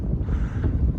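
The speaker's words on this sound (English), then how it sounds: "Still windy as hell." Heavy wind buffets a microphone at Saint Mary's Glacier with low, rumbling gusts throughout, loud and close, with no other clear sounds.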